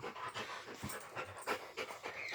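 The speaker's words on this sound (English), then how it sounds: "Now I have two dogs on my lap and fighting each other for the territory of" Two small dogs pant on a person's lap, rapid quick breaths in an irregular rhythm, close but soft, with no talking.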